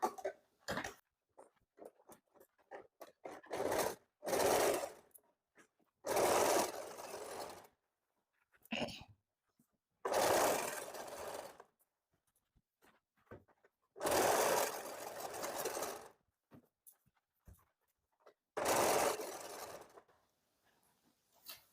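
A sewing machine stitches the waist seam of a blazer being taken in, running in several steady whirring bursts of a second or two, separated by pauses and small mechanical clicks.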